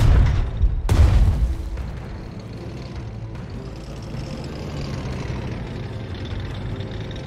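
Artillery strikes in the WWII strategy game Strategic Mind: Blitzkrieg, fought around Kharkov: a heavy, close boom opens the clip, a second sharp blast follows about a second later, and both fade into a low rumbling wash.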